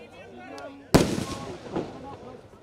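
At an outdoor kabaddi final, a single loud firecracker bang goes off and echoes, followed by further crackling pops, while a commentator's voice is heard before and around it.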